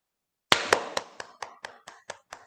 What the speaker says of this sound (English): Clapping for all child authors.